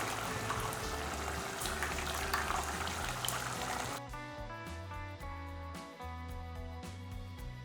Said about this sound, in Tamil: குழம்பு நல்லா கொதிச்சுட்டு இருக்குது பாருங்க